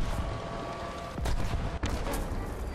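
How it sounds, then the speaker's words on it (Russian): Gunfire and explosions in the War Thunder video game, a loud, continuous barrage of shots with sharp bursts standing out near the middle. "Хватит стрелять тут повсюду."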